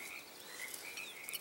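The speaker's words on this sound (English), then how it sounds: "Hear the frogs croaking." Frogs croak around a small bush-fringed lagoon near the beach at Bandon, Oregon, on a quiet early morning in mid-April; a steady chorus of faint, distant calls, with insect-like chirps layered over it.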